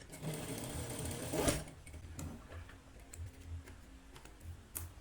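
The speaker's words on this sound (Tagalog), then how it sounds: "ang ginagamit na machine sa pagdudugtong ay single needle" A single-needle sewing machine stitches jersey fabric together, a quiet, fast mechanical whirring and ticking with short bursts of stitching and brief pauses, heard close up.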